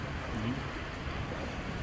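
Sea waves wash steadily along the Üsküdar shore in Istanbul, with a continuous surf and wind rush and no one talking.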